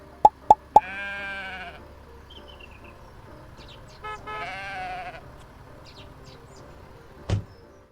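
Sheep in a cozy video game bleat in two wavering calls separated by a quiet stretch, preceded by three sharp clicks and ending with a single click, over faint background ambience with scattered soft chirps.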